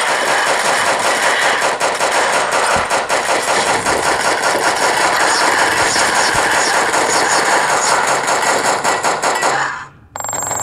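Relentless rapid-fire video game gunfire rattles loud and continuous for about ten seconds, a dense mechanical stream of shots, then cuts off abruptly near the end.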